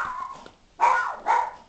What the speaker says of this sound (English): that's just our guard dog.